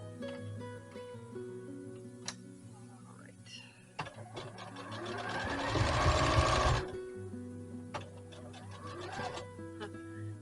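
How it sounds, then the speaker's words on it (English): A sewing machine hums and rattles through rapid stitching of quilt pieces, speeding up into a loud fast run in the middle, then easing back. "sewing machine sometimes goes so fast it was throwing the tripod around there"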